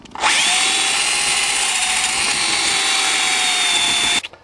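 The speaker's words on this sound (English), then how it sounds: "So I've got a portable drill." A portable power drill drilling out a hidden pin on a Thunderbird, one steady high whine lasting about four seconds, close and loud, starting and stopping sharply.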